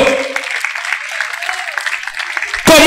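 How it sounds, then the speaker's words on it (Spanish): A church congregation claps in a dense, continuous wash of applause for several seconds, fairly loud, before a voice cuts in at the end. "Dame el aplauso al Padre, al Hijo, al Espíritu Santo"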